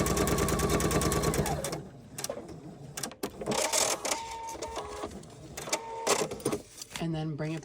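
A sewing machine stitches along a paper-pieced seam line in uneven bursts of mechanical whirring and clatter, stopping and starting, with a voice talking over parts of it.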